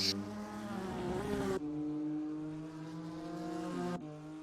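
Onboard engine of a BMW M2 race car on track, a loud close drone holding steady pitch, with two sharp gear-change breaks and a small pitch dip between them.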